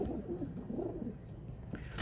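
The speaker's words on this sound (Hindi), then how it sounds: "ये एक अली वाला कबूतर है अंदर।" Pigeons cooing softly among a rooftop loft of quail-type fancy pigeons, a low, steady murmuring coo that rolls on continuously and close by, with no talk over it.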